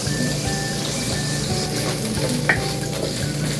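Meat for yaki sushi fries in a pan, giving a steady, close sizzle. A utensil stirs and scrapes in a regular rhythm of light knocks, with one brighter clink partway through. No one speaks.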